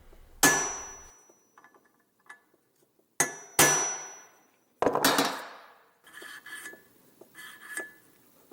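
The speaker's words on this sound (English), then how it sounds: "the rocker arm can be tapped on afterwards" A rocker arm tapped onto its bearing during sports car chassis construction: several sharp metallic hammer clangs, alone and close, with separate loud strikes and a run of lighter taps and clinks at the end.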